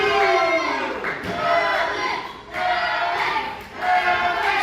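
A wrestling crowd at an independent show roars in rising and falling waves of split chanting and booing, loud and dense throughout, with no clear single voice standing out.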